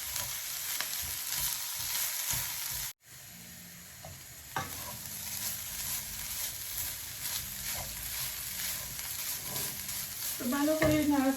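Coconut and date-palm jaggery filling for Sylheti bhapa puli pitha being stirred in a pan, soft scraping strokes over a low sizzle, a brief silent cut, then steady stirring with a faint voice near the end.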